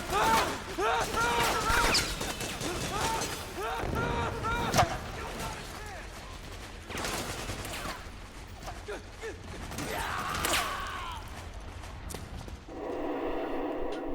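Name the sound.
gunfire and tanks in video game Metal Gear Solid 4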